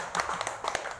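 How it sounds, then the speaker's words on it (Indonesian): An audience at a televised show bursts into a short round of clapping hands, a busy cluster of overlapping claps lasting about a second. "Tepuk tangan bapak dan anak ini baru."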